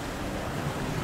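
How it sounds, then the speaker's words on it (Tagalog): Ocean waves and wind at a beach resort in Anda, Pangasinan, making a steady, even wash of surf with wind rumble against the microphone, continuous and fairly loud with no voices. "nandito tayo sa karagatan ngayon"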